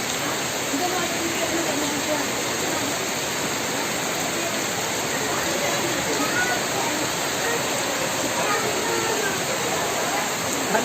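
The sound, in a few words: heavy rain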